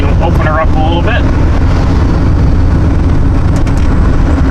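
An OBS Ford F250 pickup being driven out on a main road, its engine a loud, steady low rumble mixed with wind buffeting, with a brief voice near the start.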